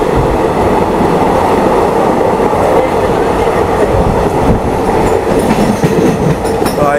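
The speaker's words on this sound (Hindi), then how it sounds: "आप जो सामने लोकल देख रहे हैं वो वेस्टर्न लाइन की लोकल है, वेस्टर्न रेलवेज लिखा हुआ है," A Western Railway local train near Mumbai rolls past during the monsoon, a loud, steady rumble of wheels and carriages with faint rhythmic clatter and a high squeal near the end, with no talking.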